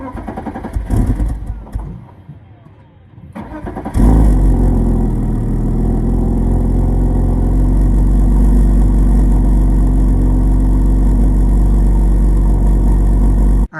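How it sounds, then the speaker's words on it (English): A stock car engine cold-starting: a few seconds of quieter shuffling, then the engine fires loudly and settles into a steady, rumbling idle that holds to the end. "I'm gonna give you guys a little cold start, because honestly, it doesn't sound too bad for being stock."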